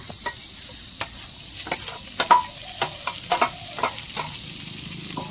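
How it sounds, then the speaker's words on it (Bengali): Fish roe and bitter gourd stir-fry in spice paste, a steady close sizzle punctuated by irregular sharp scrapes and taps of a spatula against the pan, with no one talking. "ভালো করে দু তিন মিনিট আমি মশলার সাথে ডিম আর করলা দিয়ে একটু কষিয়ে নেব"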